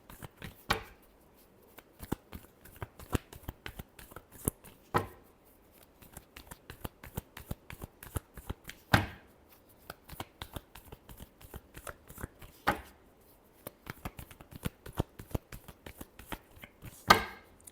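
Tarot cards shuffled by hand at close range in a quiet room, a run of crisp riffling bursts and sharp card snaps recurring every few seconds with soft flicks between them.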